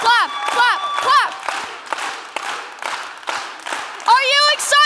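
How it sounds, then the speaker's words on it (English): Children's audience at a TEDxKids event clapping and cheering in a hall, crowd noise swelling and dipping while an excited voice calls out over it. "Put your hands together and clap, clap, clap, clap, clap"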